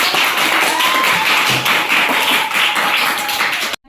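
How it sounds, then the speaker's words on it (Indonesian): A class of students claps hands together in a classroom, a loud, dense patter of many close claps running steadily for several seconds before cutting off abruptly. "Berikan tepuk tangan"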